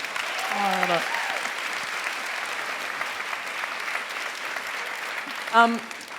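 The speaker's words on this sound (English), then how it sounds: "let's just give her a big round of applause" Audience applause at the All About Women festival, a steady broad wash of clapping filling the hall, with a voice briefly speaking near the start and again near the end.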